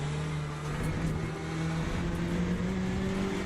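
GT3/GTE race car engine revving in Le Mans Ultimate, a steady sustained drone with a rising, climbing tone as the revs build, continuous and fairly loud without voices.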